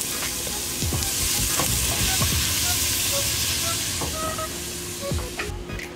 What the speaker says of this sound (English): I'm gonna saute my onion and garlic in this for a few minutes